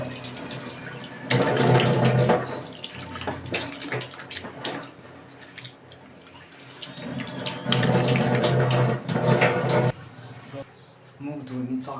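A tap runs into a sink in bursts while someone splashes water on their face, with louder gushes near the start and again around the middle, and a steady cricket-like insect chirp in the background.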